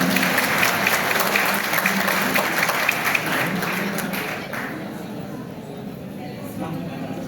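Clapping from an audience after a stage performance of a devotional drama, a dense burst of applause that gradually thins and fades toward the end, with some voices mixed in.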